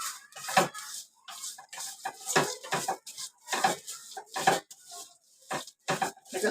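Vermicelli roasts in oil in a pan, stirred with a utensil that makes repeated scraping and clinking strokes against the metal, close and fairly quiet, with no talk.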